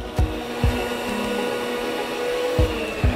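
Electric mixer whirring steadily through brownie batter with eggs for marble brownies, a close continuous motor drone punctuated by a few brief louder knocks or bumps against the bowl.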